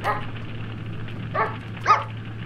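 A small dog gives a few short, sharp barks spaced apart, moderately near, over a low steady hum.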